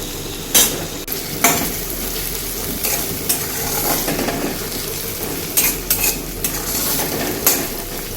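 Chopped onion and tomato cooking in a pan for a wild flower vegetable dish, with a steady close sizzle and repeated scraping stirs of a spoon against the metal at irregular intervals, no voices.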